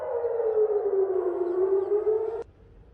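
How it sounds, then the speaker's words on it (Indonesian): Air raid warning siren in Eilat, Israel, a single loud, steady wailing tone that slowly sinks in pitch, then cuts off abruptly near the end, leaving faint background noise. "Sirine peringatan berbunyi di kota Eilat Israel pada Minggu 21 Juli pagi."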